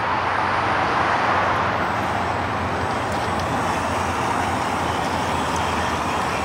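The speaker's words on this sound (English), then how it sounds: "You can hear all the traffic on Deerfoot." Road traffic on Deerfoot Trail forms a constant, loud broadband roar of passing cars and trucks, steady throughout with no gaps, heard from close by outdoors at a rocky spot.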